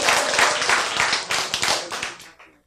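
An audience claps together at a Korean talk on healing, dense steady applause close and loud for a couple of seconds before quickly dying away, with no speech over it.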